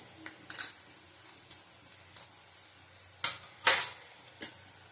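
Panch phoron spices and Kashmiri chili powder being sautéed in a pan for a taro curry: faint sizzling under scattered brisk scrapes and light clinks of a spatula, close, with no voices.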